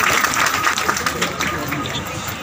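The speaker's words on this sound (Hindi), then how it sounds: "पर जोरदार सबके लिए ताली बजाइए।" Audience applauding at a Bulandshahr police passing out parade, steady outdoor clapping from a large crowd that fades slightly, with a voice speaking over it.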